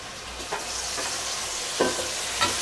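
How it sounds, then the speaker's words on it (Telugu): Onions and tomatoes fry in a pan for a fish curry, giving a steady close sizzle with a few soft scrapes of stirring and no voices. "టమాటీలు అన్ని కూడా వేసుకున్నాం ఇందులోకి ఇవన్నీ కూడా మనమైతే బాగా ఫ్రై చేసుకోవాలి"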